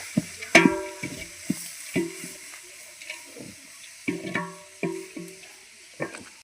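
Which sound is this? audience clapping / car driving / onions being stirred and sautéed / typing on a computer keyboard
onions being stirred and sautéed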